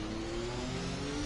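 Race car engine in the F1 2021 racing game, a steady mid-pitched drone holding through the clip, then a sharp rise in pitch and loudness at the very end as the car upshifts out of a corner.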